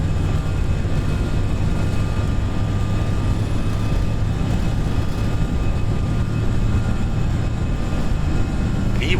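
Airbus A320 jet engines spooling at takeoff thrust in the Prepar3D flight simulator, a loud, steady roar with a constant low drone, heard from the cockpit throughout with no voices.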